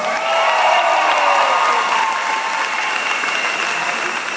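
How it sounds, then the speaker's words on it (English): A convention crowd at a Nu Skin event in Singapore breaks into dense, sustained applause, loud and steady throughout with a faint tonal hum from the hall underneath. "Give yourself a big round of applause."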